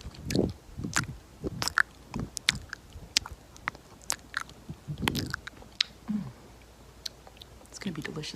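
Wet, close-up licking and mouth smacks on a camera lens in an ASMR session, coming as soft intermittent clicks and slurps with brief pauses between them.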